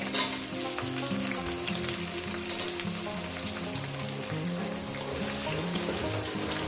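Chopped onion and green chilli fry in a pan for a fish curry with vegetables, giving a steady, close crackling sizzle with light stirring scrapes that continues evenly throughout, no voices.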